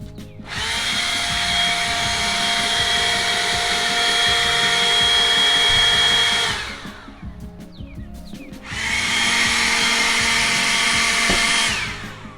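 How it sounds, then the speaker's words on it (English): A small, cheap electric blower runs close up with a loud, steady whirring rush. It stops for about two seconds, then starts again and runs on at the same level. "this is just a cheap little electric blower"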